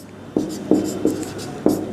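Chalk or marker writing on a board in a class VIII chemistry lesson on metals and non-metals, four distinct short strokes tapping and scratching at irregular intervals against a quiet room.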